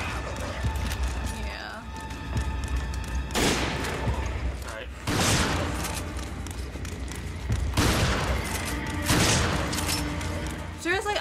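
Gunfire in the video game Resident Evil 5, with several heavy shots spaced a couple of seconds apart and booming over a busy game soundscape, while players talk throughout.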